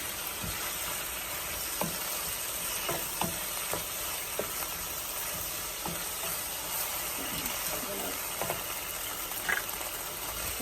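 Onion sautéing in a pan for spicy curry chicken feet, a soft continuous sizzle with scattered clicks and scrapes of stirring, fairly quiet and steady throughout.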